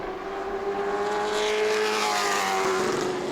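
Race car at speed during qualifying at New Smyrna Speedway: a loud, steady engine drone with a rising pitch as it accelerates, heard near and alone without talk.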